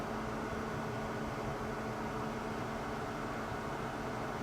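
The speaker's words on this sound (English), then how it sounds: "It's like a quiet hum." Steady, even hum of a Kickass 400W air conditioner running in a camper trailer, a constant white-noise whoosh with faint tonal drone, unchanging throughout.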